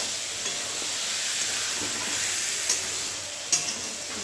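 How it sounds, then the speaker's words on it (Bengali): Boiled chickpea ghugni being stirred and fried with spices in a pan: a steady, fairly loud sizzle with a couple of sharper scraping stirs near the end, and no talking. "এটাকে ভালো করে মশলার সাথে নেড়ে চেড়ে কষিয়ে নেবো একদম"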